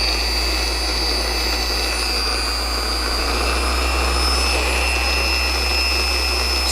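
ShineMate ERO car polisher running at speed, a loud, close, steady electric motor whine with a deep hum underneath and high tonal whistles, held constant throughout without talking.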